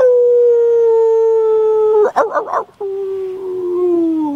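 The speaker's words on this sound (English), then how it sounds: "Where does the wolf howl?" A wolf howls with long sustained wavering tones, broken midway by a short burst of noisy yips or barks before the howl resumes and slowly falls in pitch.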